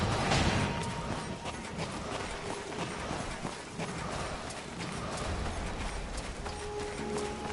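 Horse hooves clip-clopping in Darksiders 2, a steady run of hoofbeats at moderate loudness over a dense game soundscape of rumbling ambience, with no speech.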